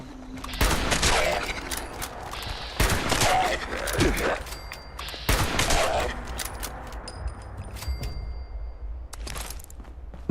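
Weapon fire in Fallout 76 comes as several separate loud, sharp shots spaced a couple of seconds apart, with mechanical clicks and game ambience between them.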